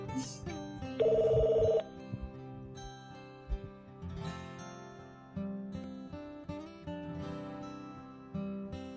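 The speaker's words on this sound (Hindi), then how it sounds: "असफर का फोन है, मैं देखती हूँ।" A telephone rings in a Pakistani TV drama scene, one loud electronic trill that lasts under a second before quieter background music and sounds take over.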